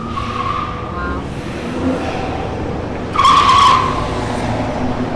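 A rental car drifts on a hot summer night in Berlin, its tires letting out two sharp squeals, the second louder and longer, over a low engine rumble heard from a distance with faint voices nearby.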